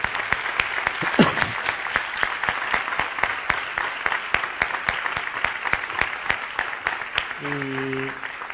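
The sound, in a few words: audience applause for the doctors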